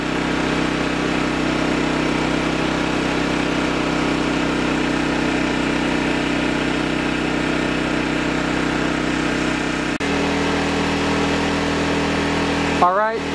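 A Champion model 200961 dual-fuel 2500 watt generator running on LPG hums and drones steadily at close range, its engine tone shifting slightly near the end, with a brief click or rattle at the very end.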